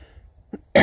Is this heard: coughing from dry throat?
yes